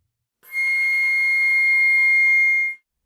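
A flute sounds a single sustained high C natural in the fourth octave, a bright, steady, piercing tone held for about two seconds, played alone without talk.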